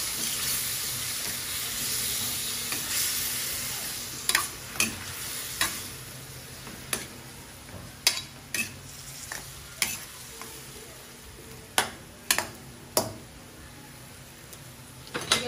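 A spoon stirs Bicol express with shrimp paste in a sizzling pan, a steady frying hiss broken by a series of sharp utensil scrapes and knocks against the pan, close and clear with no talking.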